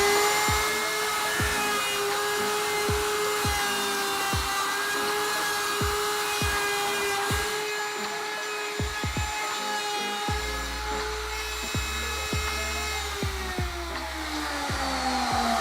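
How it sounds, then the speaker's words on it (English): A power router shapes and rounds the edge of a wooden skateboard deck in a factory, giving a loud, steady high-pitched whine with repeated sharp clicks and knocks throughout and a drop in pitch near the end. "every skateboard at the factory goes through a router like that"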